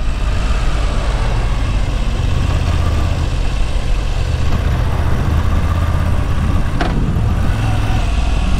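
A 2022 Moto Guzzi V7 Special motorcycle engine while riding along the Rhine, a steady loud low drone with constant road and wind rush and a brief sharp sound near the end.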